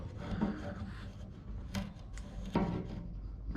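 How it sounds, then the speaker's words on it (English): Rust being scrubbed out of a Mazda RX-7 FB gas tank after acid treatment: a steady, close rasping rub with a few sharper scraping bursts, no talking. "Just a little bit of work, some scrubbing."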